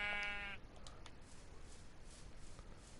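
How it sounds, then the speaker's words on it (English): A single sheep bleats clearly at the start in a blocky survival video game, a short nasal call followed by quiet ambient game background. "Another sheep."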